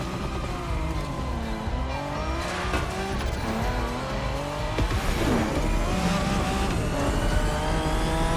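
A Ferrari 308 GTS driving on Hawaiian roads in a racing game, its engine revving loudly and continuously close up, with tire squeal and shifting engine pitch as it speeds along.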